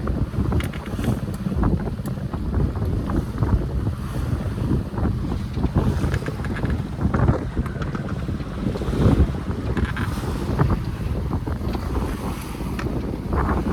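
A small sailboat heeling under two sails on open sea, with steady strong wind buffeting the microphone, water rushing along the hull and waves slapping throughout, loud and continuous with no speech.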